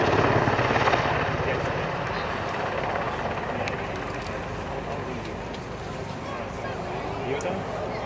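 Apache military helicopter flying low-level manoeuvres with steep banked turns, a steady heavy rotor thump and turbine roar throughout, fairly close and loud, with a voice talking over it.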